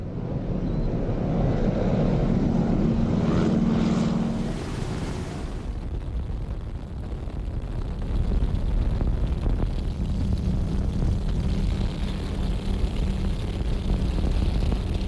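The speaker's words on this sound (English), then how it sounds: "We got on board these planes that served their country 70 years ago." Vintage propeller planes about 70 years old, used for skytyping, flying with a steady, loud engine drone and wind rush, with a brief swell partway through and no talking.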